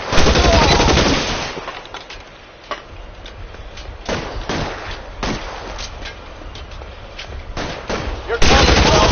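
Video-game gunfire in an L.A. Noire shootout, loud bursts of shots and sharp single cracks over a dense rumbling background, with a voice briefly heard.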